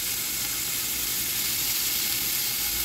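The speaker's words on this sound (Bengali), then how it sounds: "পেঁয়াজটা আমি একটু হালকা ভেজে নিব" Onion frying with ginger and garlic paste and salt for an Arabian mutton dish, an even, continuous hissing sizzle heard close up and alone.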